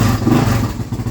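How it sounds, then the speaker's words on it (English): Liquid-cooled four-stroke 700xx snowmobile engine revving up briefly, loud and close, with a rough throaty roar that eases off. "Revs up,"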